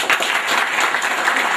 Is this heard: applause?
yes